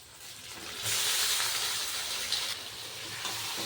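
Okra dropped into a pan of fried onions sets off a loud sizzling hiss that swells after a quieter start, then stays bright and steady with slight dips as the vegetables settle.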